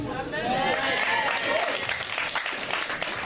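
A gathered audience claps in a short, steady burst of applause, with voices audible beneath the clapping.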